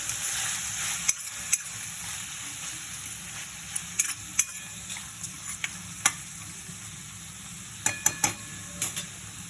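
Pepper chicken with chopped tomatoes frying and being stirred in a pan, a steady soft sizzle broken by sharp clinks and scrapes of the spoon against the pan at irregular intervals, close by.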